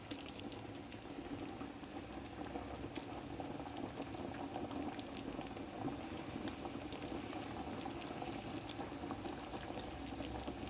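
Barley rice soup simmers in a pot, giving a constant bubbling roar with a dense burble of small pops that holds steady throughout, close and without any voices.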